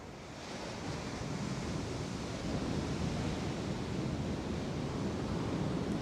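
Ocean waves wash steadily in a continuous broadband roar of surf, loud and close, with no voices.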